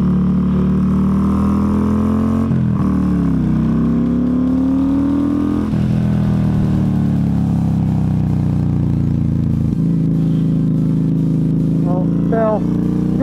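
A 2015 Yamaha Stryker motorcycle engine revs and pulls while riding, with a loud, steady drone that climbs in pitch through each gear, drops at the shifts and is overlaid by wind rush.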